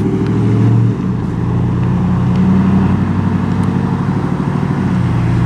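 A Chevrolet pickup truck pulls up nearby in Houston, its engine a steady, fairly loud rumble lasting several seconds, with no talk over it.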